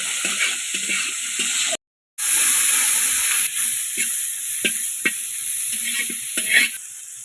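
Salted eggs fry in a pan with a steady close sizzle and hiss, broken by a brief silent gap and a few soft stirring taps, no voices.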